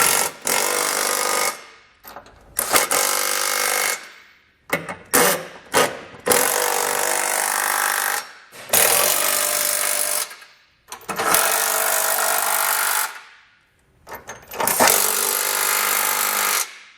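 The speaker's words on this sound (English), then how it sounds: "we can come back with a 19mm socket and snug it all down" Bolts on a Curt trailer hitch receiver being driven tight on a 2021 Subaru Forester with a 19mm socket on a power tool, in five loud, sustained bursts of whirring and rattling with short pauses between them, no talk.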